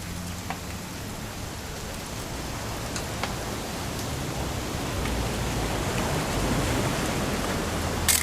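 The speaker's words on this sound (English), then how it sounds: "It's gonna rain the whole weekend," Steady rain in the video game What Remains of Edith Finch, a continuous hiss of falling drops that swells gently toward the end, with no voices over it.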